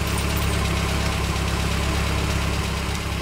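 A car engine idles steadily in the video game DayZ, a constant low rumble with slight vibration that holds at an even, fairly loud level for the whole stretch, with no voices over it.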